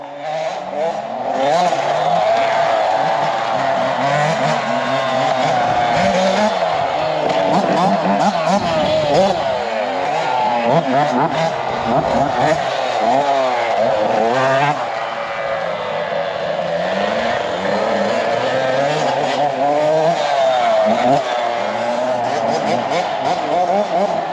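Kids riding dirt bikes around offroad trails and jumps in Alaska, engines revving and droning steadily as the bikes lap, loud and continuous with voices talking over it.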